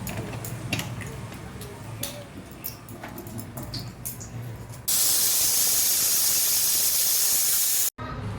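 A pressure cooker cooking Odia dalma, a lentil dish made without onion or garlic, suddenly bursts into a loud, sustained steam hiss after quieter kitchen clatter. The hiss holds for about three seconds and drops out for a moment near the end.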